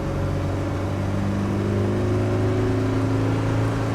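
A 1998 Land Rover Defender 90 with the 300Tdi diesel engine pulls hard through the gears, a steady loud drone with its pitch slowly climbing, heard close from inside without talk.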